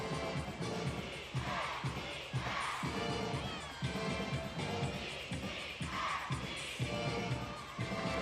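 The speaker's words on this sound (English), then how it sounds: "Crowd getting involved here with the routine." Crowd noise from spectators at a college gymnastics meet during a floor routine, a continuous roar with rhythmic claps and cheers rising and falling throughout.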